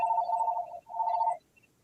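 A telephone rings in two clear electronic bursts, the second shorter, loud and close with no talking over it, then quiet.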